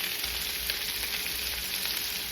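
Onion, okra and andouille sausage frying in a pan, a dense steady sizzle and crackle heard close up without speech.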